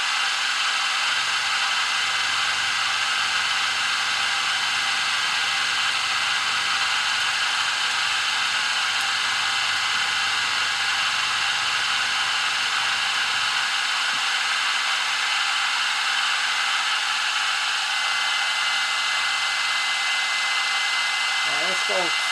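A milling machine cuts a Vaportrail Blade X base plate in a steady, loud high-pitched whine that runs continuously throughout, with a slight shift in tone partway through.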